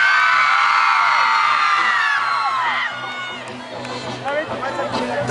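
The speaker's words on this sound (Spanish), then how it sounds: "Denme un buen grito." At a concert in Belén, a large audience shouts, whoops and cheers loudly all at once, a dense roar of many voices that eases briefly before swelling again.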